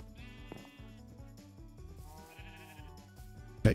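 Sheep bleating in Minecraft, short blocky game bleats over a steady looping music bed, with a louder burst near the end.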